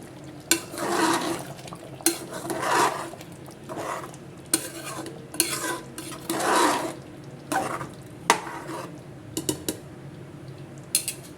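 A spoon stirs chicken masala curry with coriander and curry leaves in a pot, giving bursts of scraping and clattering against the metal in an irregular rhythm, close up, with a soft simmer beneath and no voices.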